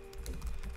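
Quick, light keystrokes on a computer keyboard, a short run of soft close taps in a quiet room.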